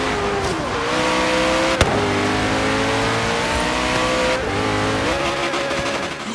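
Car in Forza Horizon 3 stuck in place and burning its tires, a loud sustained engine whine with wavering revs, a sharp knock partway through and a brief dip before the revving resumes.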